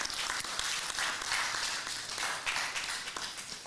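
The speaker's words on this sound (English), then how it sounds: "give one round of applause to all of our panelists" Steady applause from an audience, many hands clapping continuously and fairly evenly throughout, heard at a moderate distance.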